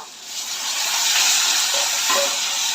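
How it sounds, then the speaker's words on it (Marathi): Hot water poured into brinjal frying in oil bursts into a loud, close hiss of steam and sizzle that builds and stays strong throughout, with no talking. "इथे मम्मीने पाणी उकळलंय ते ॲड करून घेऊया"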